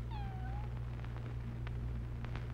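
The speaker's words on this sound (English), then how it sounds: "What was that? Is that a cat?" A single drawn-out cat meow, used as a sound effect in a classic radio drama production of This Gun for Hire, sounds clearly at the start over a steady hum and hiss of old recording noise.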